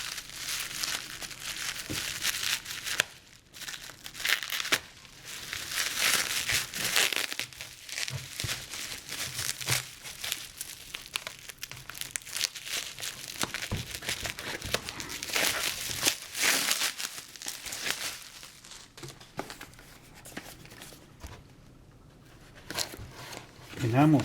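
Packing tape pulled and torn off a hobby shop package, close crinkling and ripping in repeated bursts with rustling between them, broken by short pauses, with a voice talking over parts of it.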